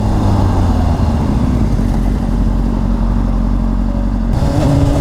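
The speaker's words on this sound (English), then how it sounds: "let me demonstrate with that engine brake" Honda CBR600RR motorcycle engine braking, a loud close steady engine drone with deep low rumble and mechanical clatter, shifting pitch slightly near the end.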